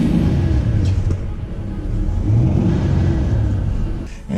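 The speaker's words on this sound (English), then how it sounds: "At times you want to step on the gas just to hear it" A car fitted with a RIPP supercharger revs and rumbles close by, engine drone steady and loud throughout with small swells, no talk.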